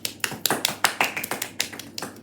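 About a dozen sharp hand claps come in a quick, slightly uneven rhythm, close by and fairly loud, with no one talking.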